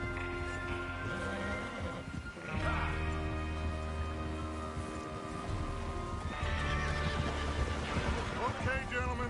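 In Red Dead Redemption 2, a horse neighs loudly, then a second whinny follows, over steady hoof clip-clops and a busy game soundscape with voices murmuring underneath.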